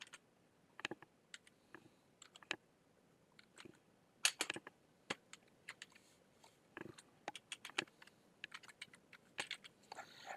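Keyboard typing for entering names into a text tool in Inkscape, heard as scattered bursts of quick, close clicks with short pauses between them, alone without any talking.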